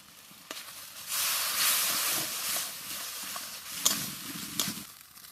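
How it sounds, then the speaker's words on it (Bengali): Water used to rinse spices is poured into a hot pan holding green chillies and chopped tomato for a prawn malai curry, bursting into a loud steamy hiss that rises, holds and tapers with small sputters. "মশলা ধোয়া জলটা দিয়ে দেবো।"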